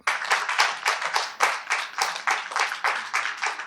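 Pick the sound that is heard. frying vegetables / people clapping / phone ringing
people clapping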